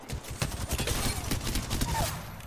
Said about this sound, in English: those shots were about to hit me